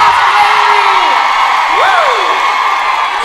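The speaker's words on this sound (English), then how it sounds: "everybody cheer for Haley because she hates it." A small live audience cheers and whoops together, with rising and falling yells over a steady roar of voices, loud and close.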